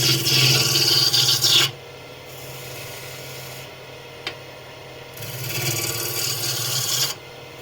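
Two bursts of a gouge scraping against spinning wood, a smooth rushing hiss broken by a quieter hum and a single sharp tick.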